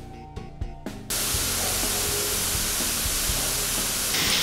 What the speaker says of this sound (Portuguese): E aí, eu vou dourar a cebola.